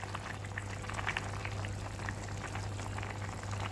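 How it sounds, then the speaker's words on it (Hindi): Prawn pulao rice simmers in an uncovered pot as its water nearly cooks away, giving a close, steady crackle of small bubbles popping throughout, with no voices. "अब आप देख सकते हैं कि इसका पानी तकरीबन सूख गया है और ये बीच बीच में से बबल आना शुरू गए हैं।"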